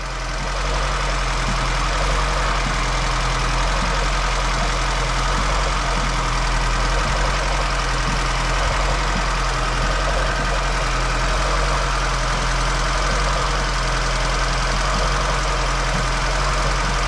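Fiat Abarth carburetor engine idling after a restart following long storage, a loud, steady rough rumble with a faint knocking texture, running alone without voices for about seventeen seconds.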